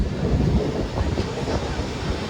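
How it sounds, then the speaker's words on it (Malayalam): The Venad Express pulls out of Kottayam railway station, a steady, dense low rumble and rolling clatter of carriages heard from on board, with faint wind-like roar and no clear talk. "അങ്ങനെ കോട്ടയം റെയിൽവേ സ്റ്റേഷനിൽ ഡിപ്പാർട്ടായിരിക്കുകയാണ്"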